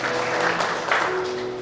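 Church congregation clapping together in a sustained burst of applause, dense and steady throughout, with a faint tone sustained underneath.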